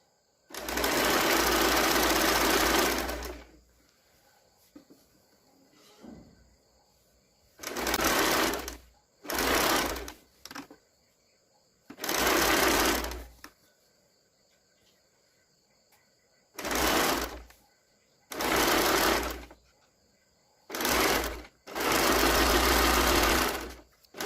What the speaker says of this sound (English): Now I am going to stitch the facing.